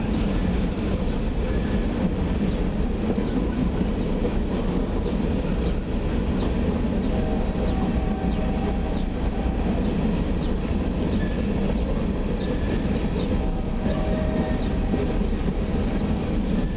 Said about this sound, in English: the Union Pacific engine hauling coal cars